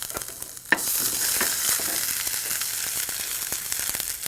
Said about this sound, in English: When you fry the ginger like this,